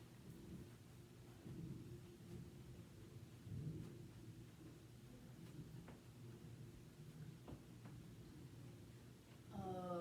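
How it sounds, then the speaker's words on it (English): Thunder from a brewing thunderstorm rumbles outside, with several soft, distant low rolls over a faint patter of rain, and no voices. "but a thunderstorm is brewing here,"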